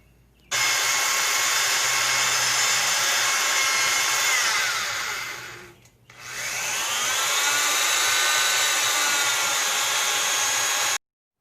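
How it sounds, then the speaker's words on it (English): Honing the front-end bushings on a 1955 Wheel Horse Senior garden tractor: a steady, loud high-pitched power-tool whine that dips briefly and spins back up, running for about ten seconds. "Then I'll hone the bushings, get this bar stock to go in and out real nice and smooth."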